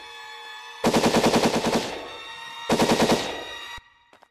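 Video-game gunfire in a horror game: two loud bursts of rapid automatic shots, the first about a second long and the second shorter, each ending in a brief echoing tail.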